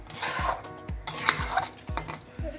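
Marinated meat, ground with coriander, cumin, dried chilli and salt on a grinding stone, tipped into a pressure cooker in a home kitchen: repeated metallic clanks of utensils against the pot, with scraping and stirring in between and no talk.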